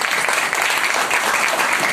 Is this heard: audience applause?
yes